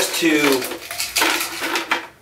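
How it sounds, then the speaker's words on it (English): Ice tumbles into a blender jar while a green juice is being made, giving clattering, clinking strikes of hard cubes against the container in a few quick bursts, up close, with a voice talking over it. "now I'm going to add some ice"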